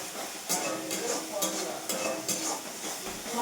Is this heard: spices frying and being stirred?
yes